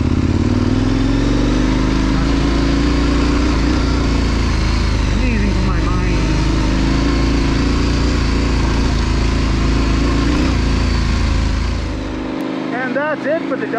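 A KTM 1090 adventure motorcycle rides off-road along a double-track trail, its engine droning steadily and close with wind rush throughout, then easing off near the end.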